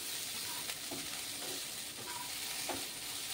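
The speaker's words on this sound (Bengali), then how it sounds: "এভাবে গ্যাসের আঁচ কমিয়ে কিছুক্ষণ ভেজে নিতে হবে।" Leafy greens frying in a pan over lowered gas heat, a soft steady sizzle with a few faint stirring scrapes, quiet and close, no talking.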